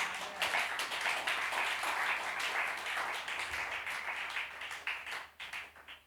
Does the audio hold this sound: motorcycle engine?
no